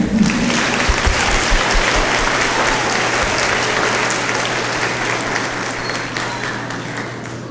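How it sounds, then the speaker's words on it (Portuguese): A church congregation bursts into broad, continuous applause that holds steady and then slowly thins out, with a low electrical hum running underneath. "Acho que eles merecem palmas, né?"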